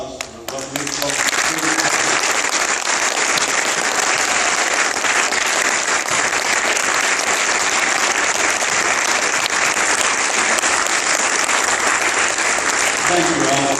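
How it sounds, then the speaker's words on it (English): An audience at a color guard ceremony honoring World War II veterans breaks into sustained applause, a dense, loud wash of clapping that continues steadily after a brief bit of talk at the start. "I would appreciate if we give a round of applause"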